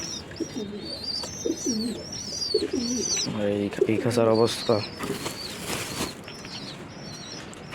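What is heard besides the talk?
pigeons cooing and flapping wings in cage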